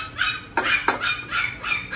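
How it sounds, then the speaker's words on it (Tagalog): A dog whimpers and cries in a few high, whiny bursts with two sharper yelps in the middle, heard alone at moderate distance in a home kitchen while menudo is being cooked. "I bet you may umiiyak na aso"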